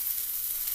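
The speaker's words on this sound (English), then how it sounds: "You're going to go and put this on the stove, and you're going to let it fry for about 2-3 minutes until it's translucent." Onions and garlic fry in a pan on a stove for a mafe sweet potato-peanut stew, a steady, close, bright hiss of sizzling oil with no voices.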